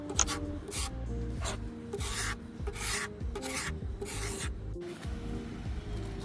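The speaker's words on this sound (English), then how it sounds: "now I'm just using plastic wood to level everything out" Plastic wood filler scraped and spread across a wooden dresser with steady back-and-forth rasping strokes, close and continuous, about a dozen passes with no talking.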